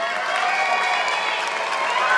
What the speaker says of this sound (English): Let's have a big round of applause for a big group